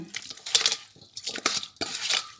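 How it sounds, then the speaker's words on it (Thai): Squid salad with fermented fish sauce being stirred in a bowl, a steady run of clinking utensil scrapes against the bowl in repeated strokes. "คนค่ะ คนให้เข้ากัน"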